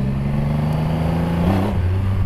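A Triumph Rocket 3 motorcycle engine drones steadily while riding, a loud close low rumble that dips in pitch briefly near the end, with wind noise.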